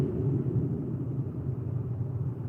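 A car rolls slowly along a road, producing a low, muffled rumble that stays steady and fairly quiet inside the cabin, with no speech.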